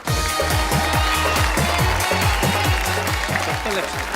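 An audience at a kavi sammelan poetry show applauds to welcome poet Rakesh Tiwari, steady loud clapping layered over rhythmic music with a thumping low beat throughout.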